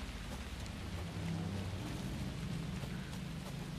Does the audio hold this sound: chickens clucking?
no